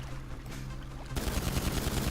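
AP pistol gunfire in a video game: a rapid, dense burst of shots erupts midway and keeps hammering in quick succession to the end, loud and close, after a quieter stretch of game ambience.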